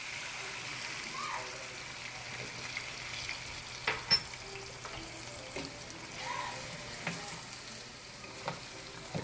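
Chicken pieces fry in hot oil for chicken tinola as fish sauce goes in, making a continuous soft sizzle with a few brief louder spits and clinks near the middle.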